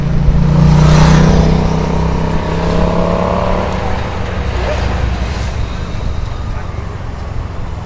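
A car driving along a road in Phuket near Nai Harn and Rawai, with steady close engine and road noise and a passing vehicle's swell early on, loud and continuous.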